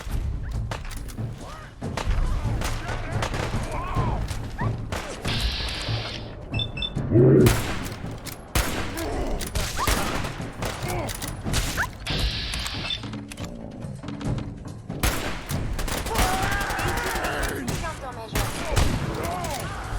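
Gunfire in the video game Fallout 4 crackles in dense volleys with heavy thumps and booms over a steady game soundscape, while a voice speaks briefly.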